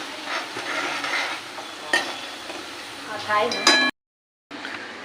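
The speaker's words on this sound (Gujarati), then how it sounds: "અહીંયા પનીર શેકાઈ રહ્યું છે" Paneer roasts in a pan with a continuous close sizzle, under stirring scrapes and light metallic clinks, then a brief silence before the frying returns, with voices talking nearby.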